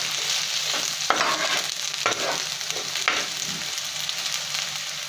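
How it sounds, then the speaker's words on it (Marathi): Onion and ginger-garlic paste frying in a pan for a prawn curry, a steady close sizzle broken by a few scraping stirs of the spoon, with no one talking. "बघा कांदा कसा गुलाबी छान होत आलेला आहे आणि आलं लसूणची पेस्ट ही चांगली भाजली गेलेली आहे"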